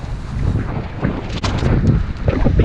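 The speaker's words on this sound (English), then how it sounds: "It's kind of cold, kind of windy." Strong wind buffets the microphone on a cold beach, with loud gusty rumbling and roaring that swells and eases without pause.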